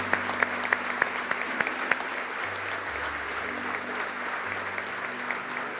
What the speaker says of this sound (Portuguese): Nossos aplausos são para Deus